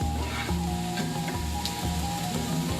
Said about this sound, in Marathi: कांदा मस्त कलर बदलेपर्यंत आपल्याला कांदा मस्त फ्राय करून घ्यायचा आहे तव्यावरती